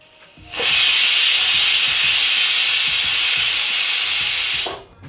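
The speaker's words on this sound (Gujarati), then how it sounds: "હવે મીડિયમ ગેસ ઉપર આપણે આ બે સીટી વગાડી લેશું કુકરમાં" A loud, steady pressure cooker whistle hisses continuously for several seconds over medium gas while peas and potatoes cook, starting abruptly and cutting off near the end.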